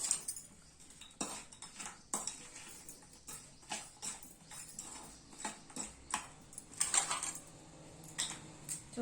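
A spoon folds fried fish pieces through a tangy pickle gravy for raw fish pickle, giving irregular clinks and scrapes against the bowl, close and fairly quiet, with no talking.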